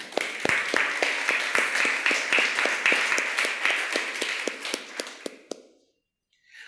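A church congregation applauds for the Lord, rhythmic close clapping with sharp individual claps standing out, ending abruptly into near silence.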